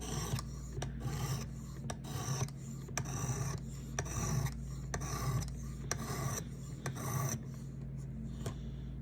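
A Ferrum Forge knife blade is hand sanded with grit paper in quick, even rasping strokes, close up and steady, one stroke after another for several seconds.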